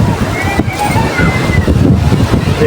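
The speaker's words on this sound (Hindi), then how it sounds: "ये देखिए ऊंची ऊंची लहरें आ रही हैं" Strong wind roars across the microphone while high sea waves slosh and surge around a boat on open water, and someone talks continuously over the rough, blustery noise.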